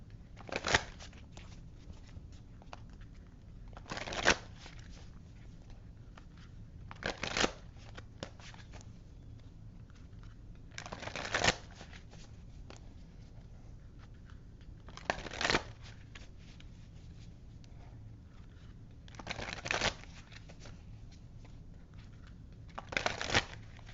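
Oracle cards shuffled by hand before a card pull, a series of crisp riffling bursts recurring every few seconds with soft rustling between, close and clear with no talking.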